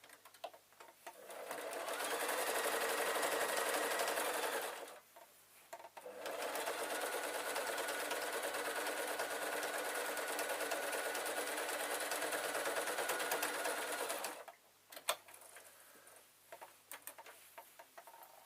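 A sewing machine stitching a panel into a cushion cover runs in two long steady bursts of rapid mechanical whirring, close and clear, with a pause between and light clicks and handling sounds after.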